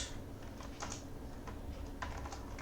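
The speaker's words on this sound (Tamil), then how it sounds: "ஃபார் எக்ஸாம்பிள் ஜாவா அப்படின்னு டைப் பண்ணுறேன்" Steady, close computer keyboard typing while writing Java code, with a quick run of light key clicks and a few louder taps over faint room noise and no talking.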